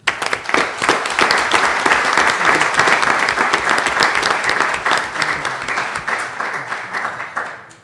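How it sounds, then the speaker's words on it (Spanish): Panel audience applauding in a sustained, even round of dense clapping that trails off at the end. "Pido un aplauso, por favor."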